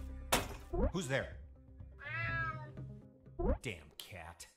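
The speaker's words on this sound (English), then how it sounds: "Damn cat." A cat meows several times in the UnMetal video game, with a drawn-out caterwaul in the middle; the meows are close and clear, mixed with game voice or speech-like sounds.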